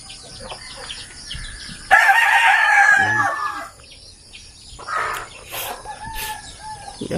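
A rooster crows once, loud and close, in a rural yard, with softer clucks and bird chirps around it and no talk.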